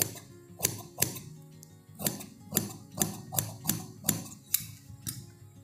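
Scissors snip through kameez front-piece fabric in a regular series of about a dozen crisp, close cuts, each a sharp click with quiet gaps between.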